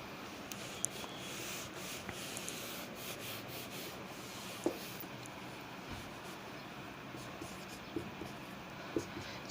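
Steady scratchy rubbing of writing on a board continues throughout, punctuated by faint occasional taps, quiet and close.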